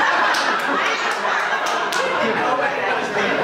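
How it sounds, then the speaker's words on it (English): Comedy club audience clapping for a stand-up comic, a steady broadband patter of many hands filling the room at moderate loudness, with a few sharper claps standing out and faint chuckles mixed in. "Not as much applause on that second part."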